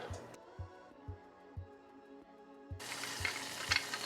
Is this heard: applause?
no